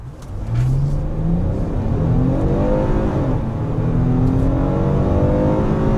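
A Kia K7 Premier sedan with a 3.0 GDi engine accelerates hard from standstill to 100 km/h, the engine note climbing through several rising sweeps as gears change, loud and continuous from inside the car.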